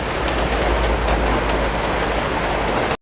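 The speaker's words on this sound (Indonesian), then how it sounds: "Hujannya wes nggak begitu deres, lumayan naik." Steady rain pours at a market, a dense, even hiss of drops on surfaces that continues unbroken for a few seconds before cutting off abruptly, with no voices.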